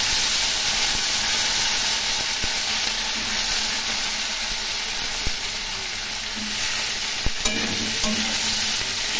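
Potatoes and cauliflower fry in a pan for fish curry, a constant close sizzle and hiss with occasional clinks of stirring.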